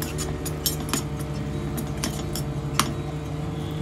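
A spoon stirring chilli powder, garam masala and salt in a metal pan, a run of light metallic clinks and scrapes over a constant low hum from the stove.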